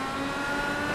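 An IndyCar engine in the iRacing sim at the Indianapolis road course drones at a steady high pitch under power, a dense, buzzing tone with no breaks over a short second.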